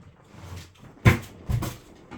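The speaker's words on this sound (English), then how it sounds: "Excuse me when I close the door." A door closing indoors: a soft thud followed by a second muffled bump as it settles, fairly quiet against a low room hum.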